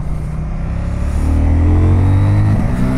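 A CFMOTO 800 NK motorcycle engine revs up sharply after an accidental downshift, with a loud rising whine that climbs steadily for about two seconds, then briefly wavers and holds high.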